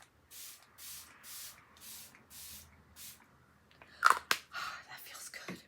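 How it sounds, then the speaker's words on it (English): Setting spray misted onto a made-up face in several short, soft hissing bursts at an even rhythm, close and quiet, followed by a few louder rustles and handling sounds. "Setting spray might be a good idea."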